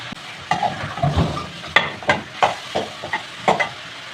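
Cardamom pods and black peppercorns sizzle and pop in a hot pot of oil, with a steady frying hiss broken by repeated sharp crackles and stirring scrapes, close and fairly loud.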